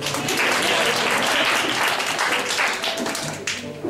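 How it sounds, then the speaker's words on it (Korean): A church congregation at a worship service breaks into sustained, dense applause that fills the room steadily, tapering slightly toward the end. "박수 한번 해주세요."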